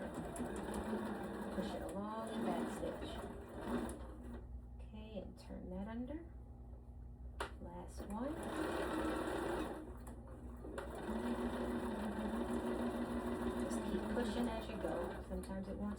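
A sewing machine stitches and back stitches fabric in bursts of rapid mechanical whirring, stopping and restarting, with a person talking over and between the runs.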